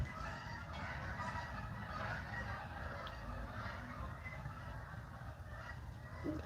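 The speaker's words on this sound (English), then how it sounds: "probably at least like 70 geese flying. That's a lot of geese. The whole sky is full of geese." A large flock of geese, some seventy birds, passes overhead outdoors, their honking a steady dense chorus carried across the sky throughout.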